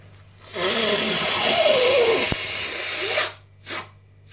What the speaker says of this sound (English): I'm going to have to blow my nose again.